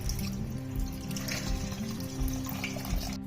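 About a glass of water pours steadily into a kadhai holding garlic for a mutton keema dish, a close, continuous splashing gurgle lasting the whole stretch with no voices.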